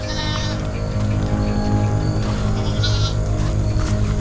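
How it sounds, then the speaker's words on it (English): Several goats bleat loudly and continuously up close, their cries overlapping without a break. "Goats!"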